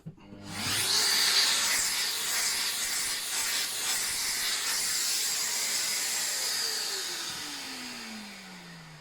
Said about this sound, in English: so a wee quick vac.